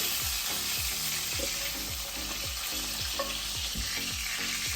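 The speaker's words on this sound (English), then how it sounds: "finish browning my meat" Meat browning in a pan for a ragù Bolognese, a steady loud sizzle and crackle of frying fat with repeated scraping stir strokes throughout, no voices.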